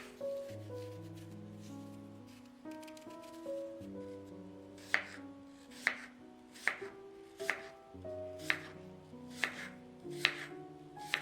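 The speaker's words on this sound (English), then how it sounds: "I chop apples large." Apples being chopped into large pieces with a knife on a cutting board for an apple pie, a steady series of sharp, crisp cuts at roughly even intervals, close and fairly quiet over faint background music.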